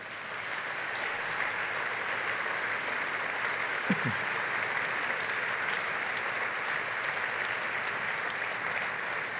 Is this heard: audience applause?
yes